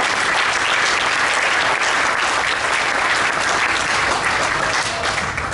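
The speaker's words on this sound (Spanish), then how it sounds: "Denle el aplauso al Señor, hermanos." A church congregation applauds steadily during an evangelical service, a loud, continuous wash of clapping from many hands that holds at an even level throughout.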